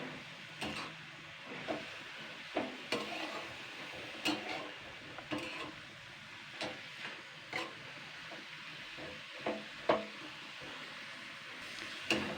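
Punarnava greens being stirred with a squeeze of lime juice in a pan, giving soft scraping and spoon taps at an irregular pace over a faint low sizzle, close by with no talk.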